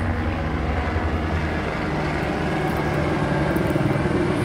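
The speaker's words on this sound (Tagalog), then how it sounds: "Oh, may helicopter." A helicopter passing overhead outdoors, a steady broadband rotor and engine drone holding at constant loudness throughout, with no talk over it.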